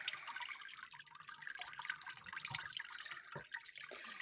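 Whey drains from homemade cottage cheese wrapped in cloth, a soft continuous trickle with scattered faint drips, quiet and close, with no talking.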